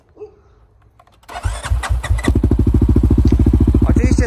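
A CFMoto 625 Touring quad ATV with a stainless steel exhaust cranks a few times, catches and settles into a steady, loud, rapid putter close by.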